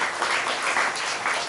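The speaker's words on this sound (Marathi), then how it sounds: "जोरात टाळ्या वाजवायच्या आहे" Audience applause at a Marathi public speech, a steady dense wash of clapping filling the short moment without pause.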